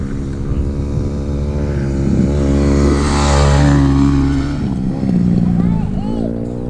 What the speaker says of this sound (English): Okay, there's a bike coming.